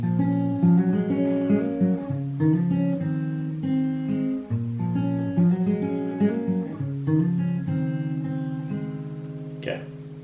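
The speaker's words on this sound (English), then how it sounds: "Okay, so the riff is going to sound like this." Guitar riff from a song played on a clean guitar, a repeating melodic phrase of plucked notes with ringing sustain, clear and close, no voice over it.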